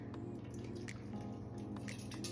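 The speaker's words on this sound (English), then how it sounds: "you can go ahead and pour it like this to make your bun" Thick bun batter is poured, giving faint wet drips and soft plops in an irregular run over a low, steady background hum.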